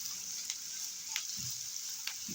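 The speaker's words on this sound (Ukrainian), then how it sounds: "додаю морку і смажимо до готовності" Onion and carrot sizzling in a pan, a constant bright frying hiss with soft stirring scrapes and occasional pops, close up.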